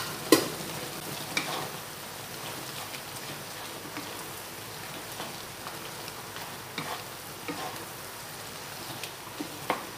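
Taro stem curry simmering in a pot with salt and laksa leaves, giving a soft, steady bubbling hiss with occasional faint clinks and ticks, alone and fairly quiet throughout.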